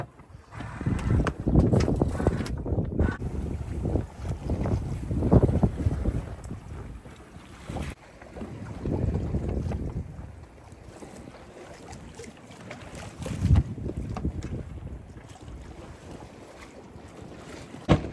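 Wind rushing past a sailboat under way off Greece at about 4 knots, with gusty buffeting against the microphone rising and falling in waves over steady hull and water noise, no talk.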